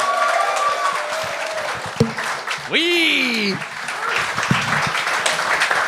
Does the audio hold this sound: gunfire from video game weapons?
no